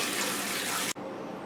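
Water rushes steadily into a toilet tank through a newly replaced fill valve during a home plumbing repair, a loud continuous hiss that cuts off abruptly near the end and gives way to a quieter trickle.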